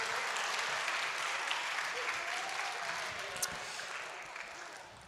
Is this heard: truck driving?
no